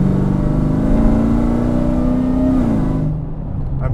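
A 1200hp all-carbon-fiber Dodge Demon built by Speedkore accelerating hard, its loud engine droning steadily and climbing in pitch before the note drops as the revs fall away near the end.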